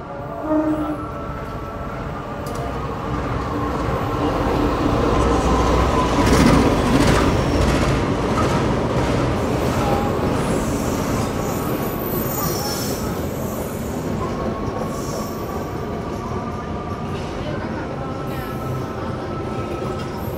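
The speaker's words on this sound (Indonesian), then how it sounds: "ini dia kereta api Pandalungan masuk stasiun Probolinggo. Pakai lokomotif dinas CC203." Pandalungan passenger train hauled by a CC203 locomotive rolls into Probolinggo station, wheels squealing steadily over a loud rumbling rail roar that swells and then holds for about twenty seconds.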